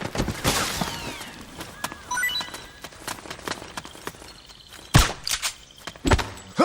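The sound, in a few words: gunfire in the video game Metal Gear Solid 4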